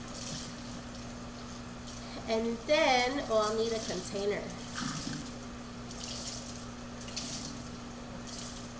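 Tap water runs steadily into a sink to wet dyeing fabric, a continuous hiss with faint splashing under a person's voice in the middle.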